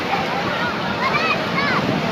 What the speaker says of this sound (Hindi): समंदर का पानी बहुत जोर है